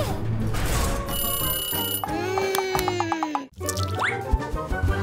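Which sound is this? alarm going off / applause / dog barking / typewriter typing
alarm going off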